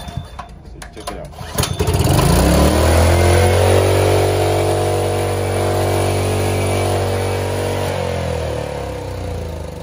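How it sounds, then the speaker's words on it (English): Honda 3.5 kVA generator engine starting up and running with a governor race fault, rising from sputtering into a loud, steady drone that holds close and constant, with a faint voice in the background. "So let me put it on the gen and let's see."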